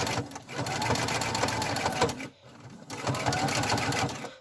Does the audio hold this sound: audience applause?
no